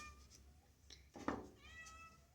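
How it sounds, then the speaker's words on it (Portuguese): A house cat meowing quietly indoors, a couple of soft drawn-out mews with a faint rise and fall, close but low in level, with no talking over it. "Meu gato miando."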